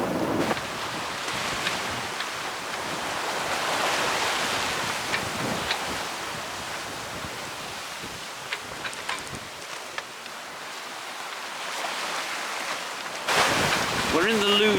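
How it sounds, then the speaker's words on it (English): A sailing yacht pushes through a nasty, lumpy, choppy sea with a strong tide running and about 26 knots of wind at roughly 7 knots on the way from Gosport to Brighton. Loud, steady wind roar and rushing water fill the clip, with heavy buffeting on the microphone and a brief sharper splash near the end. "Quite a lot of tide coming through with us, and that's setting up quite a nasty little choppy sea. But we're ploughing through it."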